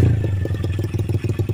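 Idle of a 125cc pit bike running a Nibbi racing carburetor jetted slightly rich, a steady low chugging pulse with uneven, lumpy firing, close up and alone with no talk.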